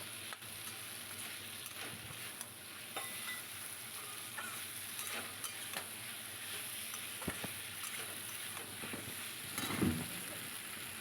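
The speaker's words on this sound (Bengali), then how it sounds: "এবার ভেজে থাকা কচু আর আলুগুলো দিয়ে দিয়েছি" Pieces of fried taro and potato sizzle in a pan, a soft continuous frying hiss with occasional light clatters and stirring scrapes, fairly quiet and with no talk.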